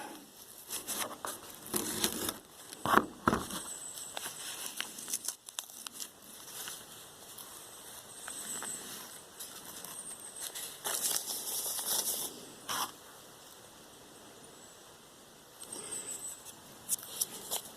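A Hot Hands hand warmer packet is cut and handled, giving close crinkly, rustling plastic sounds with sharp snips and tears, in uneven bursts and quieter lulls.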